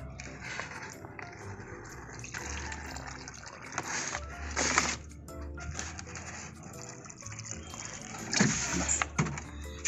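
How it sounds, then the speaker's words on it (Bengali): Homemade liquid fertilizer made from fish and egg being poured into a small hole dug in garden soil beside a plant, giving soft intermittent splashing and gurgling at close range with faint background noise. "এটার মধ্যে আমি একটু ঢেলে দেব"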